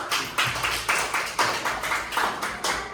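Schoolchildren in a classroom clap in unison, a rhythmic series of about six or seven evenly spaced group claps, close and moderately loud.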